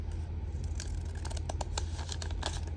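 Dressmaker's scissors cut paper in a scrapbooking craft session, giving several crisp close snips and light crinkling of paper in a quiet room.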